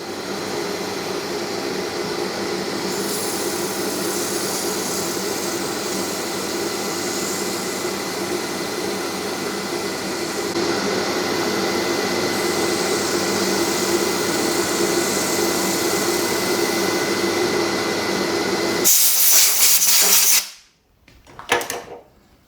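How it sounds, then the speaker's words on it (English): Sanding the lid of a handmade wooden acorn box with a thread-chased cap: a steady, loud, continuous power-tool whir holds for about nineteen seconds, then cuts off abruptly, followed by a brief bump. "I want to sand this."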